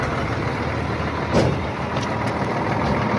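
Goods truck idling with a steady, rumbling engine drone, joined by a few faint intermittent beeps from reversing.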